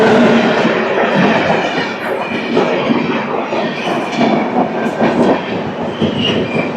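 A long-distance Indian express train rolls past up close, its loud, steady rumble layered with rhythmic wheel clatter and metallic rail noise that carries on without a break.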